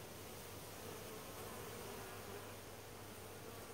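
Honeybees buzz steadily at the hive as workers drag drones out, a soft, continuous droning hum of many insects with no voices.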